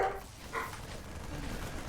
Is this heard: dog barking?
yes